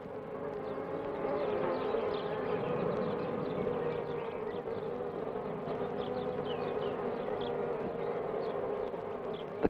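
A bee buzzes steadily among sunlit flowers, a continuous close hum holding for nearly ten seconds with small swells, alone over a faint outdoor background.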